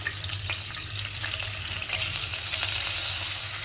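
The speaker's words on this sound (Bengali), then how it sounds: "যেই তেলটা ছিল সেই তেলের মধ্যেই প্রথমে 1 চামচ ঘি দিয়ে দিলাম।" A spoonful of ghee goes into hot oil left from frying fish for a Bengali dish, giving a close, continuous sizzle that swells louder and brighter partway through, with a few faint clinks.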